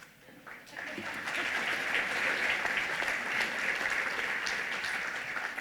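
An audience at a college white coat ceremony breaks into applause that swells within the first second and then holds as a steady, full clatter of many hands to the end.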